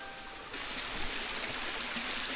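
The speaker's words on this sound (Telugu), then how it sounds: "నేను విన్నాను చిన్నగా ఉంటుంది వాటర్ ఫాల్, తక్కువ వాటర్ వస్తేనే." A small waterfall spills a modest flow of water over a large rock at a scenic outdoor spot, a soft, steady rushing and trickling heard close by with no voices.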